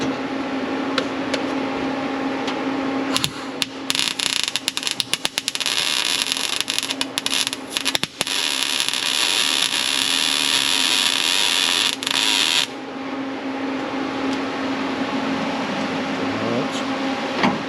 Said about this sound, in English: I need to grind it out first.